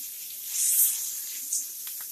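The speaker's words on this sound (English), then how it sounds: "Go ahead and just let that saute for a little bit before we actually add the corned beef to it" Butter sizzles in a pot as aromatics start to sauté before corned beef goes in, a bright, hissing fry with a brief swell and a small pop near the end, no talking.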